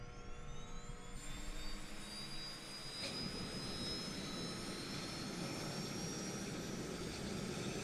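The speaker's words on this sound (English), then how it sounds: "And we can watch those engines start up." Simulated turboprop engines of a FlightFX P180 spooling up in Microsoft Flight Simulator, a rising turbine whine with climbing tonal lines that settles into a loud, steady broadband roar.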